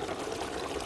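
Water is poured into a kofta mixture cooking in a pan, a brief, steady rushing splash that holds at an even level for under a second.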